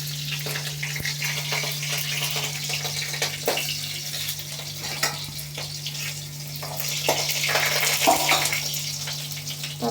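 Raw green chillies fry in hot oil for an Assamese-style chicken curry, giving a steady close sizzle and crackle with occasional stirring clicks.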